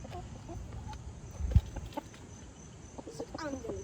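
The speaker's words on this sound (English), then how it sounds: "There's all kinds of chickens over here." Chickens and roosters in a zoo enclosure make faint, scattered clucks and calls over a low outdoor background, with a brief thump partway through.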